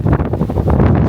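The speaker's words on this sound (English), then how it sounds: "the wind is blowing like this" Strong, violent wind near the lighthouse on Faial in the Azores, a loud continuous roar buffeting the microphone with gusty surges throughout.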